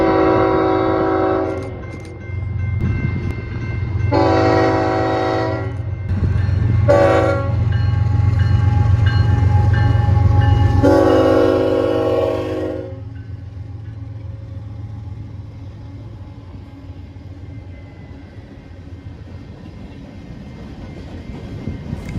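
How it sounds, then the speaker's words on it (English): An eastbound Union Pacific empty coal train led by locomotive UP 7422 sounds its horn in several loud, long blasts over a heavy engine rumble, then rolls on with fading wheel and railcar noise. "Our next train would be a Union Pacific eastbound empty coal train with UP 7422 leading."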